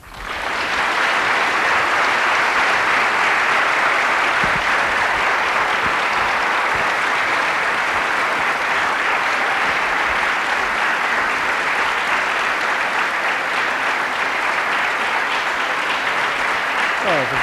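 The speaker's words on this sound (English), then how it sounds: "Good applause." Lecture audience applauding at length after a talk by architect Herman Hertzberger, a dense, steady wash of many hands clapping from start to finish, with a voice briefly heard near the end.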